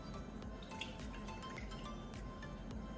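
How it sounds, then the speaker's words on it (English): Liquid prepared for simmering fish is poured into a pan, a steady wet splashing and dripping with faint clinks, close and continuous throughout. "First, we're going to pour that liquid that we have prepared"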